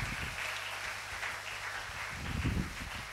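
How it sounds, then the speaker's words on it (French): A church congregation claps hands together in praise during a worship service, a dense, steady wash of applause filling the room with no voices standing out. "Tobeteli nkolo na biso maboko."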